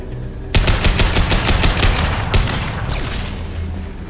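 Loud, sustained automatic weapon fire from combat in Mass Effect 2, played on Hardcore difficulty. It starts abruptly with rapid overlapping shots and includes a few heavier bursts, with no voices.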